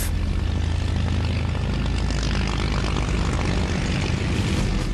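World War II P-47 Thunderbolt fighters of the 366th Fighter Group run up their radial piston engines and propellers at forward airbase Y-29 before a mission over the Ardennes, a loud continuous roar close by.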